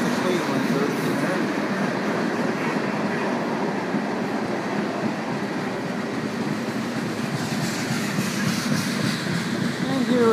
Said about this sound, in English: Here we have the rapid transit going by.